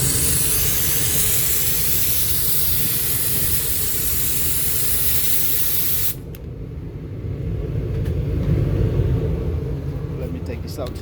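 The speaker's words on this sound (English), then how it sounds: "This is the regular one that you get with any steamer." The standard steam gun of an Optima XD steamer giving a loud, steady rushing hiss of spraying steam over a low rumble, then cutting off abruptly partway through, leaving a quieter rumbling hum.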